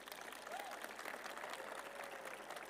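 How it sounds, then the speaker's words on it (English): Crowd at a university commencement ceremony applauding, a faint, distant, continuous wash of clapping in a large space, with a voice briefly audible. "Folks, you gotta do a better job on those applauds"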